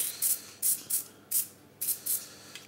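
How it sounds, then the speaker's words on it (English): Short bursts from a spray can of colouring onto a Christmas cake decoration, about seven quick hissing puffs in an uneven rhythm, close and fairly quiet, with no talking. "Spray a little bit more."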